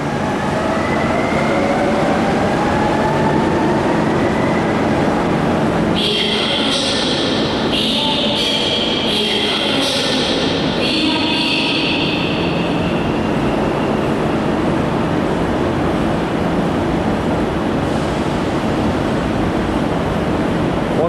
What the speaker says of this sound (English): There's a couple of more RENFE trains down there.